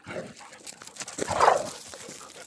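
A dog barking and whimpering on an off-grid walk outdoors, fairly close, with several short yelps rising in a quick burst.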